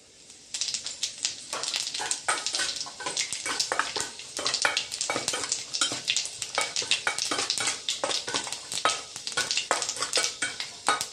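Panch phoron spices fry in oil with a loud, dense crackle and rapid spitting pops close up, continuing steadily with stirring throughout and no speech.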